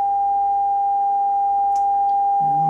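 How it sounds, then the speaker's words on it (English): A pure, steady sine-wave Morse code tone holds at one pitch, clean and continuous, with a brief faint click and a low murmur near the end. "Here's a sine wave."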